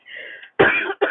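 A woman coughs sharply twice, close to the microphone, after a brief rasping throat sound, with nothing else in between.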